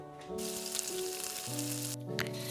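Ginger and turmeric fry in a hot pan for mustard egg curry, giving a steady, close sizzle that holds throughout with no talking.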